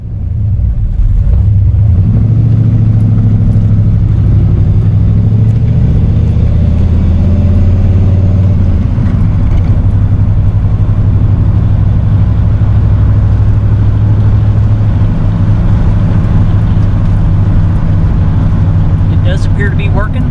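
Chevrolet K10 pickup truck engine droning steadily while driving under light load, loud and continuous from inside the cab, with road rumble throughout.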